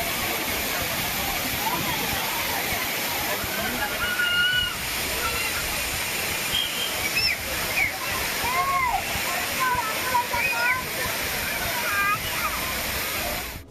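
Heavy water pouring down Thiruparappu waterfall in Kanyakumari after rain, a loud continuous roaring rush with splashing, while voices and shouts of bathers rise faintly over it.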